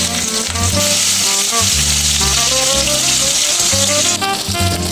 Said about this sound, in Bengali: কড়াতে আমি সরষের তেল দিয়েছি, তেল গরম হয়ে গেছে। এবার কালো জিরে দিয়ে দেবো।